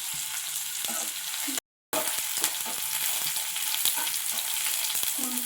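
Onions frying in a pan toward golden brown, a steady close hiss of sizzling oil with a few stirring scrapes and one brief dropout.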